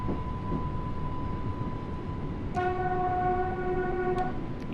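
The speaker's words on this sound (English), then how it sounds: "Sound the horn." A steady low rumble of a moving train in Train Sim World 4, Isle of Wight route, then a long multi-tone horn blast sounds for about two seconds before cutting off.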